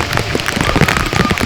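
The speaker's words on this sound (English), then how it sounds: "It's all fully raining, misty." Heavy monsoon rain on a misty trek to a Western Ghats peak: a dense, loud, continuous patter of drops hitting nearby surfaces, with no voices.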